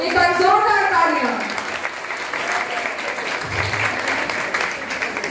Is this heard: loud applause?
yes